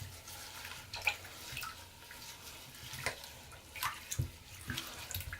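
Running tap water pours steadily over dyed raw suri alpaca fleece being rinsed in a sink, with splashes and soft drips rising over the constant flow, close and fairly quiet.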